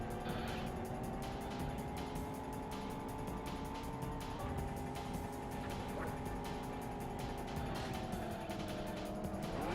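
Futuristic combat racing cars in the game Roll Cage, a constant high-revving engine drone with a whining pitch that shifts slightly, loud and unbroken throughout.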